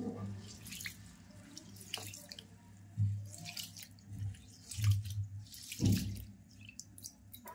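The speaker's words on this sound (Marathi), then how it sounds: "2-3 पाण्याने स्वच्छ धुवून परत पाण्यामध्ये ठेवणार आहे मी" Rice being rinsed by hand in water in a home kitchen, with soft sloshing and swishing and a few louder splashy surges recurring every second or so, close and moderate in level.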